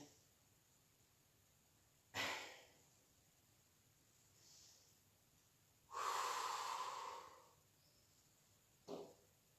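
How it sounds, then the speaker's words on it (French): Breaths during a Pilates exercise session: three separate audible exhalations, a short one, a longer, stronger one, then another short one, each standing alone against quiet room tone with a faint intake between them. "Inspire. Et tu souffles."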